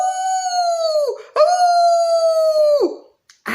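A wolf howl sound effect in a children's story, two long sustained loud howls falling in pitch at their ends, close and clear, with a short gap between them.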